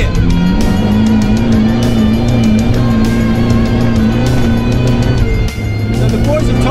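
Stunt show cars at a Sydney show drive in formation, engines droning loudly and continuously with a steady pitch and occasional rising revs, mixed with crowd and commentary noise.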